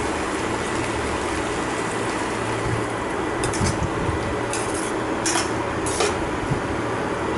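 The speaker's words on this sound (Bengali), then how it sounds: "জল দিচ্ছি।" Water poured into chole curry in a pan, a steady broadband rushing stream that runs continuously at close range with small splashy bursts near the end, no talk over it.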